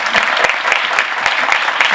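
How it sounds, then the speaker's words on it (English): An audience at a Black History panel discussion applauds the mayor, a steady, loud wash of clapping with a few sharp individual claps standing out, all without speech. "So give him a round of applause."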